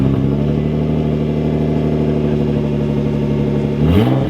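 A Nissan GT-R with its secondary mid-pipe removed for a straight-pipe exhaust idles loudly and steadily up close, its deep droning rumble swelling briefly near the end as the engine is blipped.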